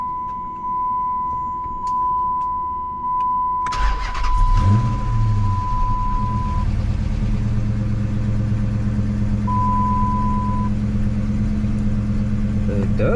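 A 2006 Dodge Charger fitted with a new crankshaft sensor starts after a moment of electronic chimes and beeps: a quick crank catches into a loud, steady idle that carries on evenly to the end, with a chime sounding again over it.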